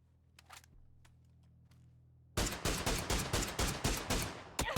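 Rapid bursts of gunfire and a grenade blast from a battle royale video game, a sharp loud volley of repeated shots after a quieter stretch with a low hum and a few isolated pops.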